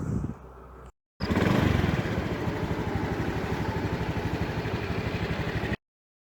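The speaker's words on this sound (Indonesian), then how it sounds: "sekarang kita coba matikan motor kita dari jarak jauh ya guys" A motorcycle engine idles close by with a steady, rapid putter that runs for several seconds and then stops abruptly as it is shut off remotely from a phone-linked anti-theft device.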